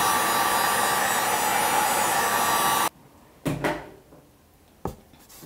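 A hair dryer blows steadily and loudly on a watercolor painting taped to a board, then cuts off abruptly, leaving a quiet room with a few soft knocks and thuds.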